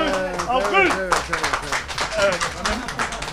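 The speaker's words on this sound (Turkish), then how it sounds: "Alkışlayalım." Applause in a Turkish restaurant, a crowd clapping in a dense patter that runs steadily under a voice talking over it the whole time.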